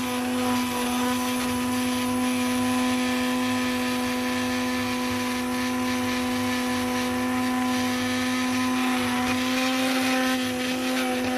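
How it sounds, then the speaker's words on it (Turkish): A food processor whirs steadily and loudly at close range while blending lentil soup, holding one constant motor pitch with no pauses throughout. "Şimdi bir kere daha vuracağım robotu."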